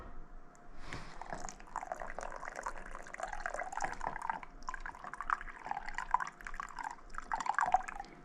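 Lemon and mandarin juice, Meyer lemons among them, poured into cream reduced to about two cups, giving soft, close trickles and drips that run continuously and grow a little busier toward the end.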